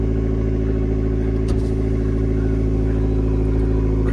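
Inside a Fiat 500 Abarth, the small turbocharged engine drones loud and steady with a strong low harmonic hum, rising slightly under acceleration, with a brief knock midway.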